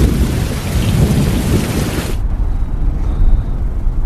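A thunderstorm with loud, dense rain and rumbling thunder that suddenly drops away to a softer steady patter midway, close and without any voices.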